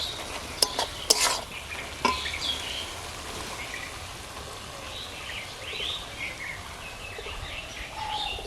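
Fish sizzling and frying in a pan for a Bengali dish with greens, a steady hiss with sharp crackles and stirring clatter near the start, close and fairly loud throughout.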